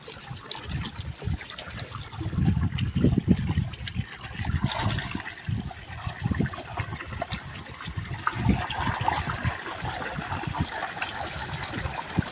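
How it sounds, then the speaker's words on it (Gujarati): A small village waterfall spills and splashes in a continuous, fairly close rush of falling water, with uneven surges and no talk. "જોઈ લ્યો પાણીનો ધોધ"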